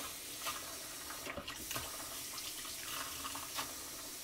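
Quiet, steady stream of water running from an RV faucet fed by the hot water tank of a 2025 Forest River Puma, with faint splashes and small clinks underneath.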